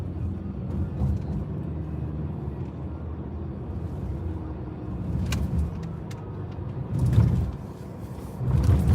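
Hybrid car driving on a road with a steady low rumble of tyres and engine inside the cabin, broken by a couple of brief louder clunks and swells near the end.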